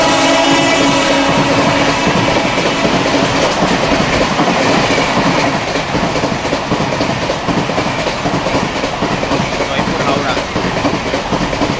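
The Rajdhani Express races through a station by day, its wheels pounding out a loud, rapid clickety-clack that roars close and unbroken, while people talk beneath the din.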